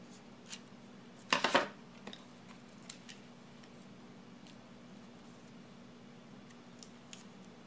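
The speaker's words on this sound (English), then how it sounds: "Let me cut that." Scissors make one brief, crisp cutting snip through paper for an art journal, close but soft, within an otherwise quiet room with only faint scattered rustles.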